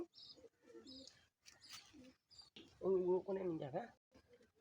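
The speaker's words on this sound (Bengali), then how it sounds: "এখানে কিছু বাজিগার আছে" Budgerigars chirp and chatter softly in short bursts, with a louder warbling stretch in the middle, close and fairly quiet.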